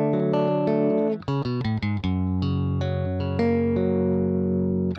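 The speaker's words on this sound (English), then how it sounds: "So what I heard was one guitar doing this main part," An electric guitar plays the main part of a song, a run of quick picked chord notes and arpeggios, clean and close with no talk.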